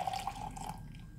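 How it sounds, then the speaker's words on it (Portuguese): Boiling water poured into a large mug for gelatin in a home kitchen: a short, close trickling splash of liquid, faint and brief, with no talk over it. "Para essa gelatina, eu vou colocar 200 ml de água fervente, já fervi."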